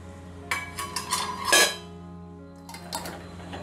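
A lid clatters and clinks against a pot of steamed modak mixture as it is lifted off, a few sharp metallic knocks close by, then quieter clinks after a pause.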